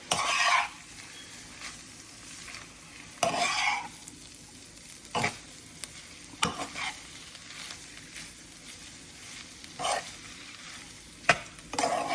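A spoon stirs chicken pastel filling in a hot pan, giving intermittent scraping strokes over a steady soft sizzle of frying, close and clear with no talking.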